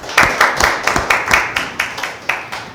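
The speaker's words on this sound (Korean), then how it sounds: "하나님께 영광의 박수." A church congregation at a Korean Thanksgiving Sunday service claps in a steady rhythm, about a dozen loud, close, evenly spaced unison claps with no voices over them.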